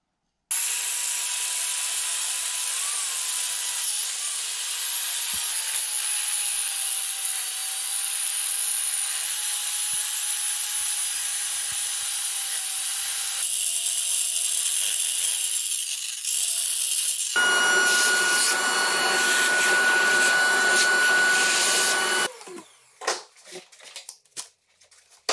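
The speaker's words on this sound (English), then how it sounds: "take a little round burr on the end of my drill motor and clean that up pretty good" A small drill motor whines at a high steady pitch while a round burr grinds on metal, cleaning up a cut on an early Chevy LS1 engine valley cover, continuous and close for a long stretch before stopping with a few clicks.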